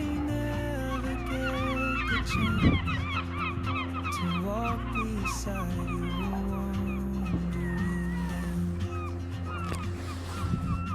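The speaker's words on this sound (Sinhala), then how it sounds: "අර විලේ ඉන්න ඔක්කොම කුරුල්ලෝ ටික යාළුවනේ මේට ඇවිල්ලා තියෙන්නේ දැන්" A large flock of lake birds crowds together in a Danish harbour where boats sit in frozen seawater, geese honking and calling continuously in overlapping layers, loud and close, with a steady low rumble underneath.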